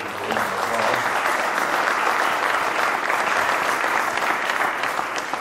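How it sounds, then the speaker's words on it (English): Sustained round of applause from a workshop audience honoring the Arkansas Department of Heritage at an event with Governor Asa Hutchinson; dense, even clapping that fills the whole stretch at a steady level. "give the Department of Heritage a round of applause"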